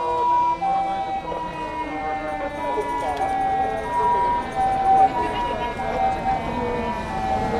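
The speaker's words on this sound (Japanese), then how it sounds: "救急車なので音を下げさせていただきます" An ambulance siren wails steadily in the background during a political rally outside Japan's National Diet main gate in Tokyo, its repeating tones carrying under continuous traffic noise and a busy outdoor hum.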